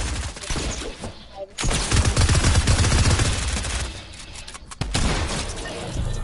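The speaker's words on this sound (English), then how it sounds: "rapid fire SMG versus a Tommy gun" Rapid-fire SMG from Fortnite rattling off in long dense bursts, loud and close, with brief pauses between strings of shots.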